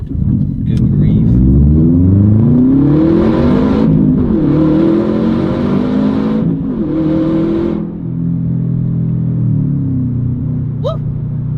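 A 2015 Subaru WRX STi engine revs while driving, rising and falling through several loud, close pulls with rumbling exhaust and gear changes, then settling into a steadier drone; a voice can be heard faintly beneath it.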